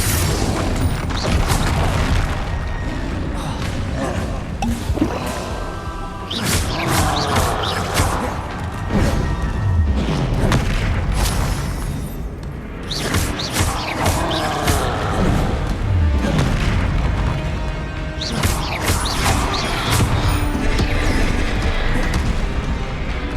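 Confringo spell blasts boom one after another in Hogwarts Legacy combat, heavy explosive hits and crashes arriving in repeated bursts over constant loud battle noise.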